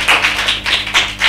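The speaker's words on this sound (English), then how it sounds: "Clap for Imran." A classroom audience at a primary-school spelling bee clapping in unison, five or six loud, close, rhythmic claps.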